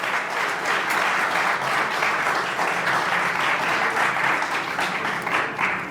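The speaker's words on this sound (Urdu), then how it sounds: "آپ کی بھرپور تالیوں پلیز۔" Steady, dense applause from an audience at a Balochistan conference held at a press club in Lahore, a continuous wash of clapping for about six seconds with no voices rising above it.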